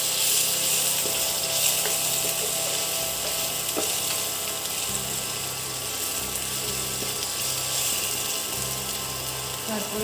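Spices fry lightly in a pan for Bengali pumpkin curry, a loud, close, continuous sizzle with faint scraping from stirring and no talk.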